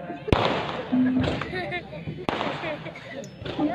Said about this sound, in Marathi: आता फटाके फोडू नका